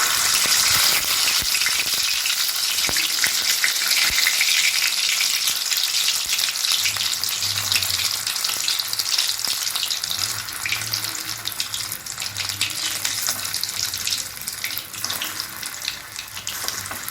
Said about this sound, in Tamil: இதில் போட்டு பொரித்து எடுத்துட வேண்டியதுதான்.